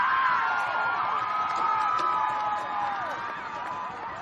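Rugby league crowd roaring and cheering at the end of a match, a loud sustained wash of shouts and whoops with high excited voices rising over the din.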